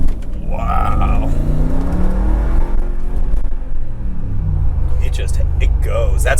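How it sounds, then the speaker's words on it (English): Mercedes G Wagon AMG with a 500 hp supercharged 5.4-litre V8 pulling on the road, a deep rumbling engine note rising and falling as gears change, heard loud from inside with people talking over it. "That supercharger really adds some power too. It sounds like a muscle car."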